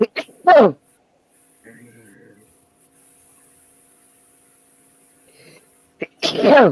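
A sharp, close sneeze bursts out near the start, then a second one near the end, separated by quiet, faint rustling, with a short spoken exclamation.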